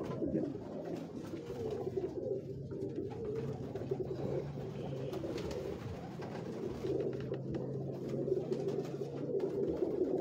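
Old-breed pigeons fill the space with steady, continuous low cooing from several birds close by, a dense murmuring drone with no talk over it.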